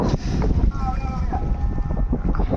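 A fishing boat for sardines runs at sea at night off the Kollam coast, making a steady loud rumble of engine, water and wind noise throughout, with faint voices and tonal whines above it.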